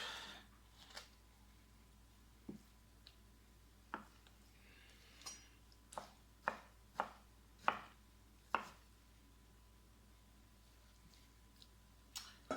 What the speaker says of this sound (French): Donc on va se faire des morceaux. Pas trop gros. Et on coupe.